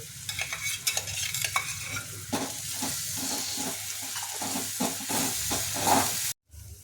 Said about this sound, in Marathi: आता यानंतर आपल्याला पालक मिरची आणि कोथिंबीरचा पेस्ट टाकायचा आहे आणि याला टाकल्यानंतर चांगलं थोडं शिजू द्यायचं आहे